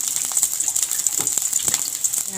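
Garlic going into a pot of vegetable soup with dried fish and being stirred, giving a steady close-up sizzle over a high hiss, with soft scraping and clinking strokes from the stirring.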